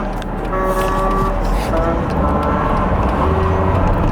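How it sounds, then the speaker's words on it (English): Steady road traffic rumbles loudly close by, a continuous wash of passing vehicles with a low engine drone underneath. "There's a lot of traffic right now."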